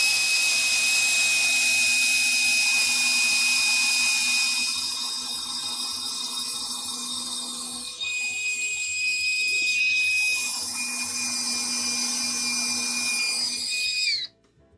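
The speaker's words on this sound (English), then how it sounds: "I can pre-drill my next 2 holes" A power drill whirs at high pitch, pre-drilling two holes in wood with a short pause between, then spinning down to a stop.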